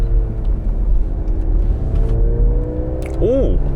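A Mercedes-Benz GLC 300 4MATIC driven in sport mode along the winding old road at Namhansanseong, with a steady, close engine and road drone and a brief voice rising over it near the end.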